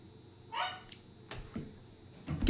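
A dog gives a few short, separate barks and yips at close range, spaced between quiet gaps, with a louder burst at the end.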